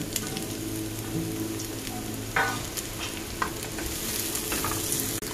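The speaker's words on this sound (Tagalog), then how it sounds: "Now we add our veggies and saute for about 5 to 6 minutes." Vegetables sautéing in olive oil in a hot skillet for shrimp fajitas give a steady, close sizzle, with a few brief stirring knocks along the way.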